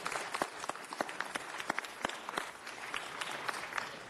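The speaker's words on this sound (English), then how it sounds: "Let's give them a big round of applause." A council meeting audience applauds Filipino American veterans, a quiet, somewhat distant stretch of clapping with distinct individual hand claps popping out over a soft crowd wash.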